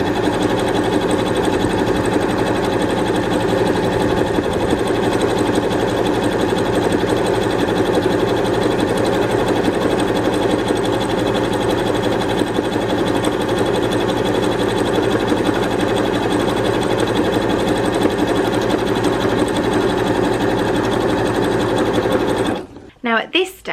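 A sewing machine stitches continuously through scraps of quilters wadding, a steady fast mechanical whirr running for about twenty-two seconds before stopping abruptly.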